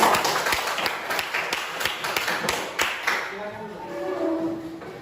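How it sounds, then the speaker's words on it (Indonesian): A class of students claps for one another, a burst of scattered, overlapping hand claps through the first few seconds that thins out toward the end, with voices mixed in. "Beri tepuk tangan untuk kalian."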